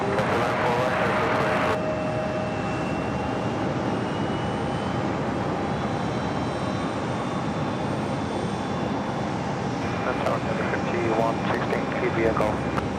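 An American Boeing 777-200ER at JFK airport gives a loud, continuous jet engine roar that holds steady throughout, with faint radio chatter underneath.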